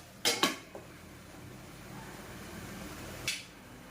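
A lid goes onto a pot of simmering tomato curry: two quick metallic clanks close together, a softer tap, then one more clink after a quiet stretch.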